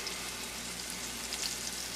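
One whole chopped onion fries in a pan on the stove over a little less than medium heat, making a soft, steady, even sizzle with faint crackles and no voices.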